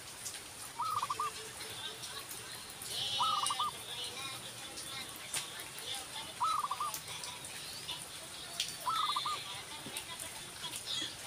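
Zebra dove and spotted dove, both young and tame, calling in a short repeated pattern of four coos spaced a few seconds apart, under a steady background of insect or ambient noise.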